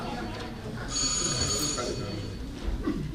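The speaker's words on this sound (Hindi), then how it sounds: "ये फोन की घंटी बज रही, कोई तो उठा लिया करो।" A telephone bell rings in a noisy home, its bright ringing tone rising loud over a busy background with people talking nearby.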